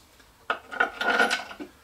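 Small metal washers and nuts click and scrape as they are placed onto 1/4-inch bolts in slots of a wooden coping saw vise, a few light, close taps over about a second.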